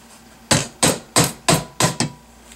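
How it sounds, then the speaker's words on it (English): A mallet strikes a Saiga 12 shotgun's tight-fitting buttstock six times in quick, fairly even succession, each knock sharp and close, with quiet in between. "I am going to need a mallet though in order to do it, because these are put on with a very tight fit"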